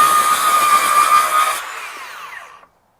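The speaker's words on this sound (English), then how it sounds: "If I let the saw do the cutting, I really notice no bog whatsoever." A RIDGID R8656 18V sub-compact brushless 6-1/2 inch circular saw whines loudly and steadily through a cut, then is released and spins down, its pitch falling away to silence.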